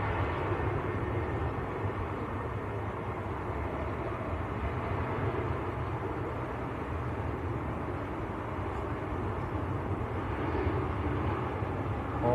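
A TUI airliner bound for Malaga at Manchester Airport, a steady broadband engine roar that stays loud and even throughout, without obvious rise or fade.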